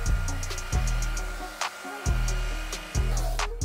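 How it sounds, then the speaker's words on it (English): Hair dryer running on its warm middle setting to loosen a decal from its backing paper, a steady whine with repeated low rumbling surges as it is swept back and forth. "The hairdryer is on the middle setting, which is warm."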